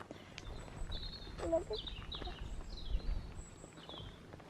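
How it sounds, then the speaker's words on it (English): Several short, high bird chirps and whistles repeat sparsely over a quiet outdoor background, with a brief low vocal sound in between. "Look at this and listen to the birds."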